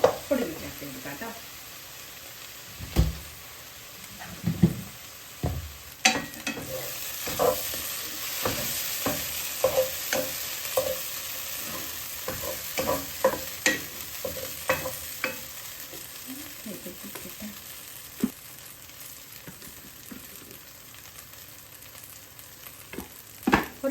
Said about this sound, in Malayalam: ഇതെല്ലാം കൂടി നന്നായിട്ട് മിക്സ് ചെയ്യാം